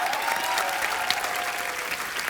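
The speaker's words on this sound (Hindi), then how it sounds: "जोरदार तालियां एक बार" A TV comedy studio audience claps steadily and loudly for the whole stretch, with dense, even applause and no voices on top.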